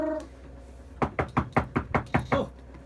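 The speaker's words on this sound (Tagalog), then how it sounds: "katok-katok" Someone knocks on a door, a steady run of seven or eight crisp raps in quick succession after a brief pause, close and clear against a quiet background.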